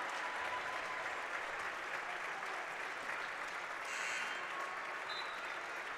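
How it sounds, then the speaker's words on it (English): Fans in a gym clap steadily for the starters at a girls' high school basketball section championship, a dense, even wash of applause heard at a distance throughout. "Their starters will get a round of applause from their fans for this run that they've made."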